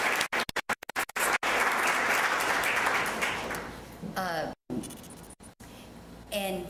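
Dense applause swells from a lecture audience after a few isolated claps, then fades as a voice begins speaking.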